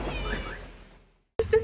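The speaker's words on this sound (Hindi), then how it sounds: "यहाँ पर देखो कैट है, ये बहुत ही बढ़िया।" A Persian cat in Iran meows once, close and fairly loud, after a fading stretch of outdoor background and a brief silence.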